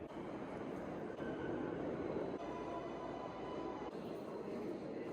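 Steady rumbling roar of a subway train moving through a large underground station, continuous and fairly distant, with no voices.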